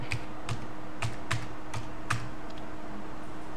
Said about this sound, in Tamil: இங்கே வந்து டைப் பண்ணுங்கள்.